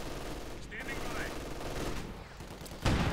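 Light machine gun fire in a World War II real-time strategy game battle: dense crackling bursts of automatic fire within a noisy battlefield din, ending in a louder blast.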